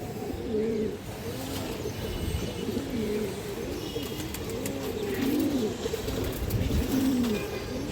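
Large black Bagha pigeons coo at close range in repeated, rolling, low calls that overlap steadily throughout, with faint chirps around them.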